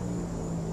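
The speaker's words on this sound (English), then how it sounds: "That airplane sounds like it's gonna crash" A propeller airplane drones overhead in the survival game 7 Days to Die, a steady low hum with a faint high whine held for under a second, with no talk over it.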